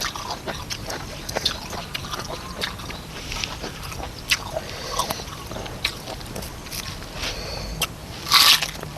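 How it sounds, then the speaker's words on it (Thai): Close crunching and biting of Thai som tam sabai nang, a papaya salad served with crisp fresh vegetables, repeated crisp chews at a steady pace with a louder crunch near the end and no talking. "เคี้ยวมันจริงๆค่ะ"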